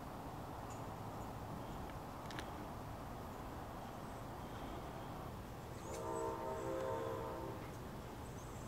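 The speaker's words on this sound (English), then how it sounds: "You can hear that lonesome train in the background." A lonesome train rumbles far off in rural woods, a faint steady low roar with a soft horn-like tonal wail swelling briefly toward the end, distant and quiet throughout.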